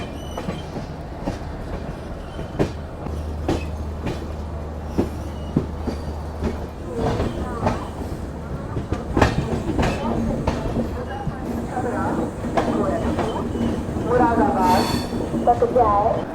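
An LHB-coach Tatanagar–Thawe Express rolls along with steady rail rumble, repeated wheel clicks over joints and rising squeals and hiss toward the end; a low engine drone sits under it early on, and faint voices come through now and then.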